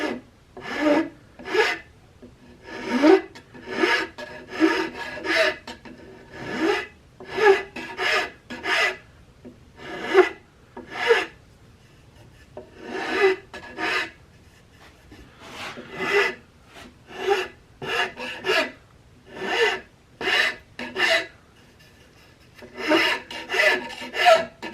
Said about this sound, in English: I can switch over to a larger flat file and move a lot more material.